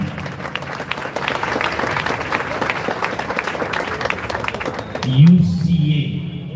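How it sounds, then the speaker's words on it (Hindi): A church congregation at a prayer service claps in loud, dense applause throughout, with a voice speaking over the clapping toward the end. "जोरदार तालियां, जोरदार तालियां।"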